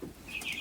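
A brief, faint chirp from three-week-old Welsummer and Buff Orpington chicks in a brooder, a couple of thin high peeps over low background noise.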